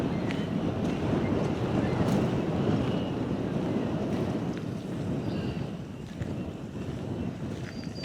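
Cold wind blowing across Lake Erie, a steady broadband rumble and buffeting that stays loud and even for the whole stretch, with no clear voices.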